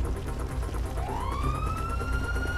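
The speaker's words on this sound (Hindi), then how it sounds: "पुलिस की गाड़ी आ गई और" A police car siren wails in GTA 5, starting partway through with a rising tone that holds steady and loud over dense game noise and low rumble.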